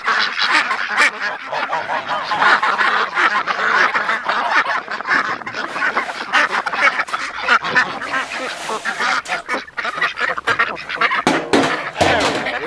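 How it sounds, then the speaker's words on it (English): Farm ducks quack loudly and constantly before feeding, a dense, overlapping chorus of calls with some honking mixed in, close by and without a break, and no one talking over it. "Gotta get these ducks fed."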